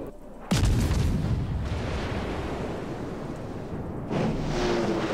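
Warship main guns fire in the naval battle game World of Warships, a heavy boom followed by a long rumbling roar, with a second salvo swelling in a few seconds later.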